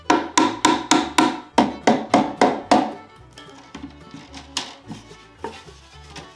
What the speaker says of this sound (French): c'est un marteau, j'ai pris des clous, j'ai coupé le grillage à la bonne dimension, on pose le clou, on tape